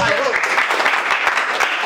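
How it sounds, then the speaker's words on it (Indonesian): Church congregation cheering and applauding for Jesus, a steady dense wash of clapping and voices filling the room, with a voice briefly audible early on. "Berikan sorak-sorai bagi Yesus."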